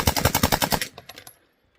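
PSA AKV rifle firing a rapid string of about eight close, loud shots in even succession, then a few quieter trailing reports before silence, with no talking.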